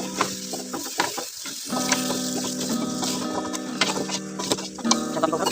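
Pumpkin and carrot stir-frying in a pot, a steady close sizzle running throughout with scraping stir sounds and a few brief knocks, while a rooster or hens cluck faintly in the background.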